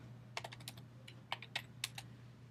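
Quiet bursts of typing on a computer keyboard, a few short clusters of clicky keystrokes over a low steady hum, close and without speech.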